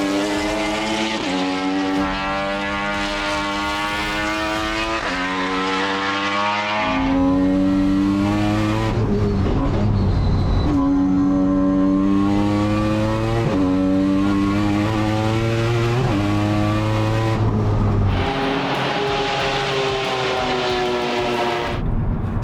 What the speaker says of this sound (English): that's Drew's Direct Clutch Services RX-7 that I got to have a drive of